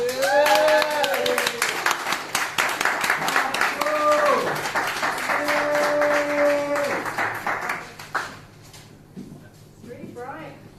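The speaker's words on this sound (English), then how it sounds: "a round of applause for Helen" An open mic audience applauds as the next performer is called up, clapping running under a spoken voice and chatter for several seconds before fading out near the end.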